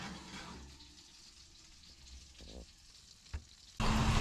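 Chicken hits hot olive oil and butter in a pan on the stove, bursting into a loud, sharp sizzle at the very end after a few seconds of quiet kitchen background.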